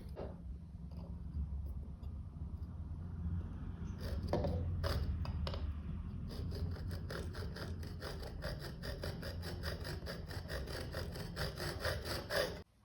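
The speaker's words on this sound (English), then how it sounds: "I just cut my aluminum tube." Sawing through an aluminum tube, heard up close as a steady rasping grind that turns into quick, regular back-and-forth strokes in the second half. There is no speech.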